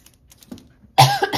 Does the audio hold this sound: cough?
yes